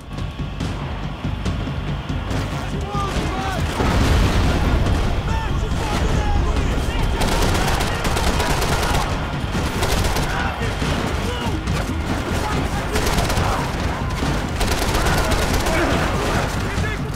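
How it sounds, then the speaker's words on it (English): Dense gunfire in a Max Payne 3 shootout: rapid overlapping shots and bursts, loud and continuous throughout, with a voice talking over the battle. "Oh, this is a gunfight, jeez Louise."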